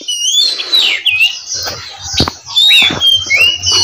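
Several songbirds sing and chirp close by, with bright whistled phrases, short tweets and a few squawky calls overlapping in quick succession.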